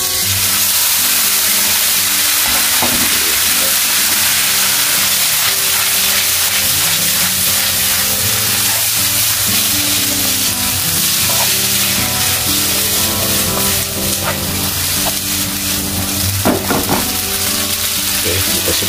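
Boiled spaghetti fries in a hot pan with a steady, loud sizzle, and occasional scraping stirs and clacks of the utensil come through over the continuous hiss.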